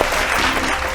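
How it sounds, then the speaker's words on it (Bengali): Audience applause at a televised Bengali family quiz game show, a dense, steady burst of clapping that fills the whole moment with no voices. "জোরে হাততালি।"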